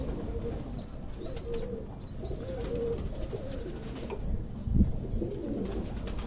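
Hungry pigeons coo in soft, repeated low calls close by, with light chirps and a brief burst of flapping wings as birds flutter down partway through.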